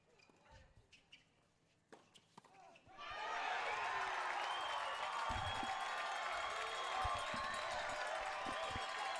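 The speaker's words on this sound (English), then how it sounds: "Crowd really getting into it" World TeamTennis crowd at a Philadelphia Freedoms vs. Orange County Breakers match erupts into loud, sustained cheering and applause after a few seconds of quieter court sounds and scattered thuds, the roar holding steady to the end.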